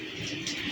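Male high-flyer pigeon of a Rawalpindi–Islamabad home breed cooing softly and continuously at close range, low murmuring tones held steady over a light background hiss.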